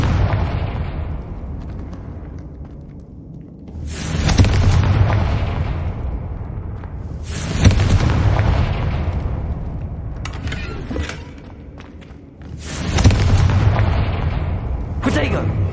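Fire blasting spell explosions in the Hogwarts Legacy game: three big booming blasts spaced several seconds apart, each followed by a long rumbling tail, loud and close with game sounds between.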